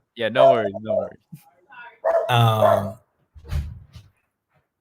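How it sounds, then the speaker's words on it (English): A dog barks at someone at the door, a few sharp barks breaking through and between a man's nearby speech, with quieter yips trailing off at the end. "there's a dog barking at someone at the door"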